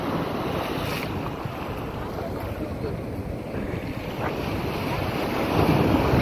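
Strong sea waves surging and crashing along a shore, a steady close roar mixed with heavy wind buffeting the microphone, swelling slightly louder near the end.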